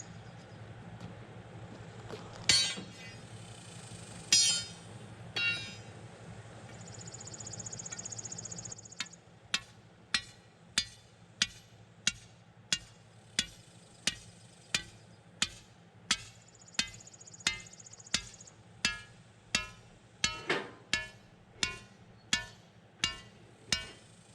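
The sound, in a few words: hammer striking rebar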